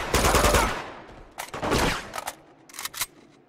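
Machine-gun fire in the Uncharted 2: Among Thieves video game, loud close bursts of rapid shots in several volleys of uneven length separated by short gaps.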